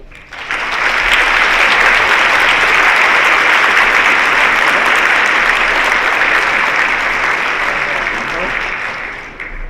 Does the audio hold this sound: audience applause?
yes